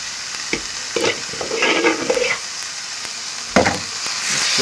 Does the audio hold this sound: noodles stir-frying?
yes